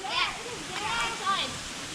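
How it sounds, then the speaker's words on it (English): A small waterfall in Barili, Cebu, gives a constant close rushing roar while voices talk over it. "We have a private waterfall."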